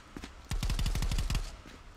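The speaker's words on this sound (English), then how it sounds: "We hear some gunshots going on." Automatic gunfire in the VR shooter game ContractorsVR: a rapid, loud burst of about a dozen close shots in quick rhythm, with fainter shots around it.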